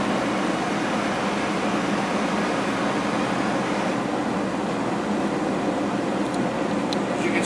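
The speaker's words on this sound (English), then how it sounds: "You can hear the bearing sound in excellent shape in the motor." A Torit 3/4 horsepower bag style dust collector with its motor running, a steady, even broadband whir and rush of air with no change in pitch, continuous and close.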